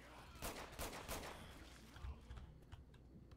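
In Left 4 Dead 2, rapid bursts of close gunfire crackle in quick succession, then thin into scattered shots, with players' voices faintly underneath.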